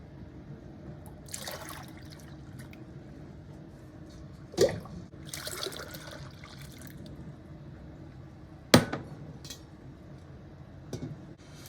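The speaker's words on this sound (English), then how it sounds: "we're going to put that liquid back into the pot" Spruce tip liquid for a traditional Nordic cough syrup poured back into a pot, with quiet liquid splashing and trickling plus a couple of sharp clinks of utensils against the pot, no talking.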